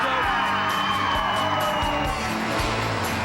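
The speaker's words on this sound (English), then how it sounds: "the crowd is whipped into a frenzy by the death-defying metal militia" A monster truck show crowd gives whoops, yells and cheers over a loud rumbling background, as a dense, excited roar of many voices that holds steady throughout.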